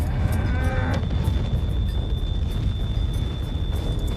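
Cattle lowing in the Western video game Far Far West, a single moo in the first second then a steady low rumble of game ambience with a faint constant tone.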